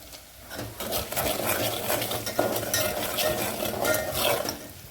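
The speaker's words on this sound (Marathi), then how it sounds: "कांदा आता परताला मी मीठ टाकायला लागले एक चमच आणि आता हळद बी टाकून घेते" Sautéed onion with salt and turmeric is stirred in a pan for a mutton curry, with steady scraping and clattering of the spoon against the metal over a light sizzle, close up and continuous.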